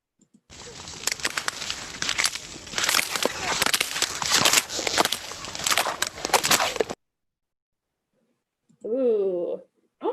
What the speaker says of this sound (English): scientists actually recorded this sound at the glaciers, and that is the sound of breaking ice.